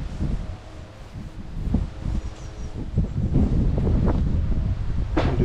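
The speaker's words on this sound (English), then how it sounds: "that wind's picking up." Wind gusts through a graveyard, rising and falling as a soft rushing noise with light rustling and buffeting against the microphone, growing stronger toward the end.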